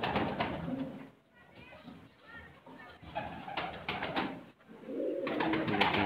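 Pigeons in a loft, one of them a golden and teddy cross, coo in soft, repeated throaty phrases with brief pauses between them. The sound is close and fairly loud.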